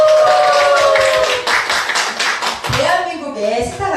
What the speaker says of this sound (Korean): 다시 한번 박수 한번 주시겠어요?